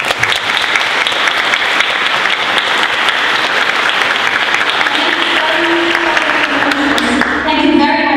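A conference audience applauds after a keynote speech on migration, with steady, even clapping that carries on at a constant level throughout.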